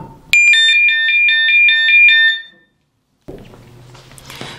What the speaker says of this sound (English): it's going to send out the emergency alarm that we will receive on the second device